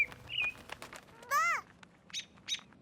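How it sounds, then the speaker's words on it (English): Cartoon birds chirp and tweet in short bursts, including a sharp sweeping squawk midway and a few quick high chirps after, close and clear over a quiet background. "Hey, wait, birds!"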